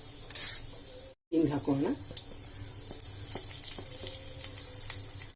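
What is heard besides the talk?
cumin and turmeric sizzling in hot oil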